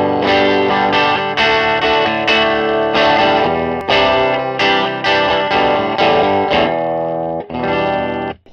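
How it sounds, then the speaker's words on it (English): Electric guitar run through a MadeByMike Salt booster pedal, strummed chords ringing loud, bright and dense for several seconds with brief gaps between strums and no talking. "Salt booster. Just louder."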